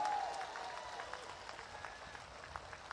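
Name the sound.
crowd applause for candidate Sunita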